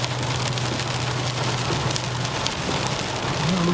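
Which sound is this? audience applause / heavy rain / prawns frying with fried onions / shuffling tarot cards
heavy rain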